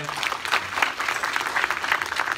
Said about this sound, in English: Give them a clap of praise